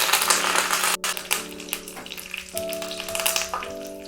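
Continuous crackling sizzle of fenugreek seeds, asafoetida, whole dried red chillies and curry leaves frying in hot oil, steady and close, with a faint tonal hum underneath and no talking.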